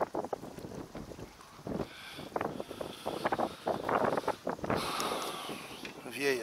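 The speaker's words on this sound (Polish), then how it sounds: "Wieje strasznie, no ale skubię." Strong wind gusts blow on the water during shore fishing, buffeting the microphone with an uneven rushing roar under someone talking in Polish.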